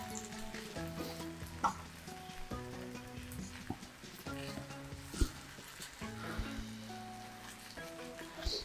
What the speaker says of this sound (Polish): niech placki się nam smażą